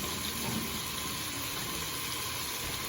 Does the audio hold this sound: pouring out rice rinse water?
yes